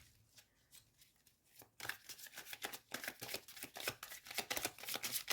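Playing cards handled at a reading table: a quiet start, then a steady run of crisp, close slapping and riffling flicks of card stock, with no voices.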